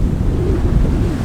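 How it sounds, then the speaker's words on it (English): Ocean waves crash against volcanic rocks on a rugged coastline, a steady low roar of surf churning close by with wind buffeting throughout and no pause in the wash. "here we have the ocean crashing into the rocks"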